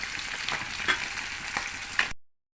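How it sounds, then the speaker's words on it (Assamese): Fish fries in hot oil with a steady, crackling sizzle and a few light stirring clicks, close and alone, before the sound cuts out abruptly near the end. "এতিয়া মোৰ এইফালে মাছ ভাজি হৈ গ'ল"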